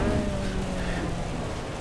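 Heavy rain in the racing game Assetto Corsa Evo, a dense steady wash of broadband noise with a low engine drone beneath, loud and continuous with no talking.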